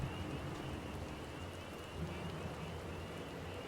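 Steady video game rain falls in a continuous hiss, with a soft low rumble underneath and no voices.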